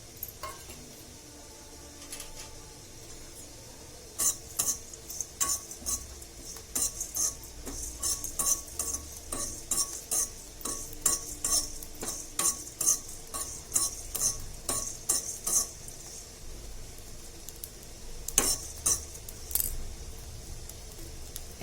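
Coriander seeds, cumin and coconut dry roasting in a pan, a quick run of rattling, scraping stirs from a metal spatula, close and rhythmic, settling into quieter stretches between bursts.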